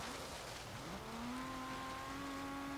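A non-V8 coupe engine in a racing video game revs up steadily to about 7,000 RPM, a high, sustained whine, with a thin rising tone over a broad noisy background.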